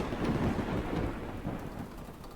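Thunder in the horror game Silent Mansion rolls as a deep rumble over steady rain, loudest at first and fading gradually, with no speech.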